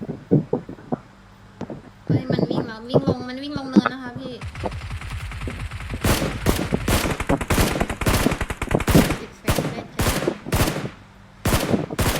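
Gunfire in the mobile battle royale game PUBG Mobile comes as rapid automatic bursts, loud and close, after a stretch of talking; a voice speaks over the opening seconds before the shooting takes over.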